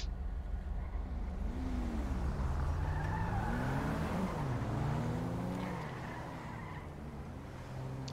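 A car in GTA V passes by with a revving engine whose pitch sweeps up and down and a brief tire squeal, loud and close before easing off slightly toward the end.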